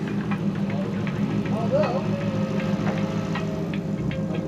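V8 engine swapped into a Toyota Celica running steadily at idle, a constant low rumble with faint ticking, heard close up with brief voices over it.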